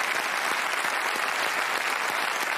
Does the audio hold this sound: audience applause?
yes